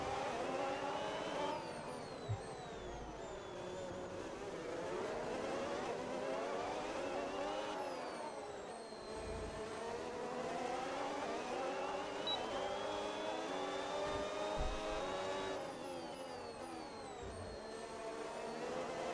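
A Red Bull F1 car engine in the F1 26 racing game wails continuously, its pitch climbing and dropping through repeated gear changes. It stays loud and steady for the whole stretch, with no talking.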